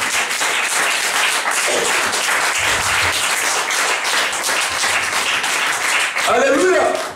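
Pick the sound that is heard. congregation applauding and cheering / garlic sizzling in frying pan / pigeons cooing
congregation applauding and cheering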